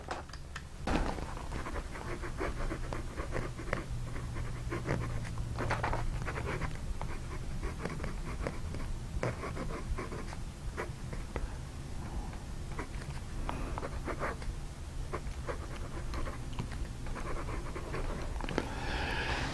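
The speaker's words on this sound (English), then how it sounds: "So let's touch nib to paper and see how this nib writes." Steel nib of a red Esterbrook prototype fountain pen, newly replaced, writing on paper: close, soft scratchy strokes in a steady run of short ticks, with no voices.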